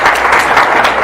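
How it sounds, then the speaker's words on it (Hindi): An audience bursts into loud, dense applause welcoming a Diamond rank associate onto the stage at a wellness-plan business event, a brief sustained wash of many hands clapping. "मैं जोरदार तालियों से वेलकम चाहूंगा आपको सम्मान के लिए"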